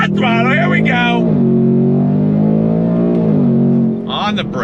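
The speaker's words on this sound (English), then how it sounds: "On throttle, here we go." A 2025 Ford Mustang GT's V8 pulls hard on throttle, a loud sustained in-cabin drone with a rising pitch, and someone talks over the start and end.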